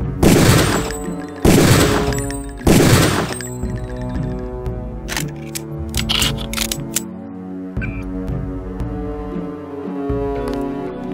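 Gunshots ring out at training targets in the video game Deus Ex: three loud, sharp bursts in the first three seconds, then a scatter of lighter metallic clangs and pings over a steady synthetic background.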